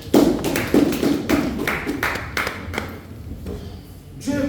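Church congregation clapping together in a rhythmic pattern of hand claps, loud and close, with a brief pause before the clapping resumes at the end.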